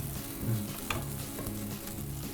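Vegan beet balls, flattened, frying in a pan with tomato sauce, giving a dense, steady close sizzle with soft crackles and brief scrapes, no voices.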